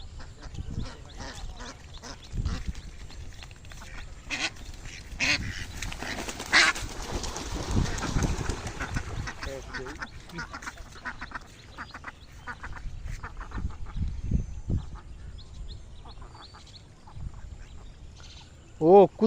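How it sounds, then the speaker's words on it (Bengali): Ducks quack repeatedly in a rainy village setting, a busy, overlapping chorus of close and farther calls lasting throughout, with people talking in the background. "হাঁস আমার খুবই ভালো লাগে"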